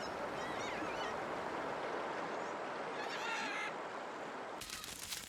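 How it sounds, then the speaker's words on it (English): A flock of parrots, including green-winged macaws, gathered at a fruiting royal palm tree on a river delta, giving harsh, distant squawks and calls over a dense, steady wash of background ambience, with a burst of louder calls near the end. "That's where a royal palm tree is fruiting. It attracts countless parrots."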